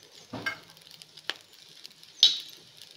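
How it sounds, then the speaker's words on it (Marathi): Chili powder is stirred into masala rice frying in a pan, with a few scraping and tapping strokes over a soft sizzle, close and fairly quiet, no one speaking. "तिखटही आता यामध्ये आपण व्यवस्थित असं मिक्स करून घ्यायचं आहे"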